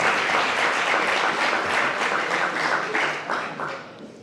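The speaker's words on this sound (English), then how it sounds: "Big round of applause." Steady applause from a large crowd at an awards press conference, dense and sustained throughout, tapering slightly toward the end.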